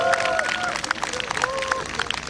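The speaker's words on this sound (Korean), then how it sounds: "여러분 박수 부탁드립니다." A crowd claps at a national busking contest by Gyeongpo Lake in Gangneung. The clapping is light and scattered, with voices over it throughout.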